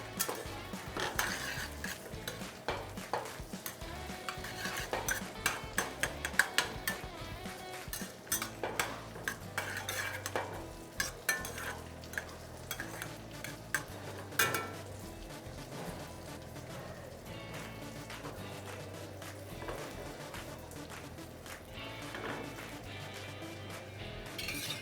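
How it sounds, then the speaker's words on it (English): Asparagus sautéing in butter in a pan, tossed and stirred: a steady close sizzle under repeated clinks and scrapes of utensil on pan, with no talking. "I'll toss my asparagus in a pan with some butter."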